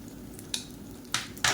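Chopped medium onion hitting hot oil in a pan, giving a steady low sizzle with a few sharp bursts of clatter and crackle as the pieces land, close and moderately loud.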